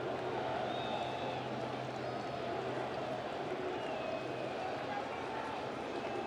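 Steady crowd murmur fills a baseball stadium during a playoff game, late in Game 3 of the 2018 NLDS, a continuous distant roar with faint whistles and no clear peaks.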